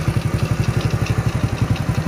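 A motorcycle fitted with an RKN piston idles smoothly with a steady, even putter of regular pulses, close and alone.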